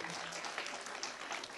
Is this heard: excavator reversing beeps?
no